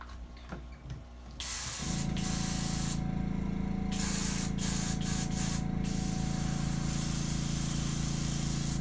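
Paint spraying onto a crankbait lure: a loud, steady close-up hiss starts abruptly after a quiet opening second and runs continuously to the end, with a few brief dips in the upper hiss.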